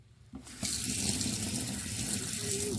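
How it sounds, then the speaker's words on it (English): A pressurised water pump kicks in and a tap runs into the galley sink of a Beneteau Oceanis Clipper 311 sailboat, starting with a brief click and then a steady, close, loud rush of flowing water. "You can hear the pump kicking in there."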